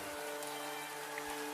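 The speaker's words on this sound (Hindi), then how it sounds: "ठंड की पहली बारिश है, सुबह तक बंद हो जाएगी" Steady cold rain of the season's first winter downpour falls through a night in the forest, a continuous even patter close by with no voices.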